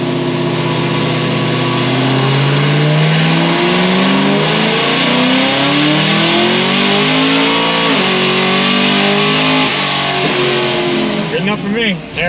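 A supercharged Procharger-equipped car engine revs hard and loud through a full pull, rising in pitch and dropping sharply as the automatic transmission upshifts, engine roar dominating throughout.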